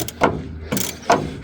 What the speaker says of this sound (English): let's put the ratchet on there